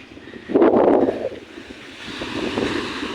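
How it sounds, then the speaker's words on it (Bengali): Sea waves at Rameswaram near the Ram Setu rocks break on the shore in a loud rushing surge, then a softer second wash follows under steady wind noise, with no talk. "এই যে সমুদ্রের ঢেউ"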